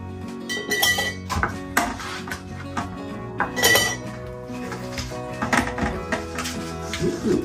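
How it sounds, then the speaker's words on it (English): Coffee ice cubes clinking and knocking against a glass, a loud, irregular series of bright chinks and thunks heard close up with little or no talking. "If you put in coffee ice cubes,"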